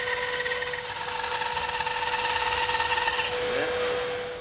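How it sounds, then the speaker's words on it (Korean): A handheld power tool trims the curved side of a wooden board for a home interior project, giving a steady whining hum with a faint rising whir near the end. "둥근 모양의 옆면도 직접 다듬어 봅니다."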